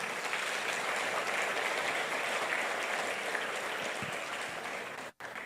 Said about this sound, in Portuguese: Você pode aplaudir Jesus nessa manhã?